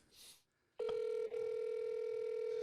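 A phone places an outgoing call: a soft blip, then a loud, steady, single-pitched tone that holds with a brief dip partway through.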